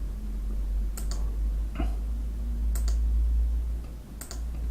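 A computer mouse clicks a few times, sparse and fairly close, over a steady low hum, with a soft rustle between the clicks.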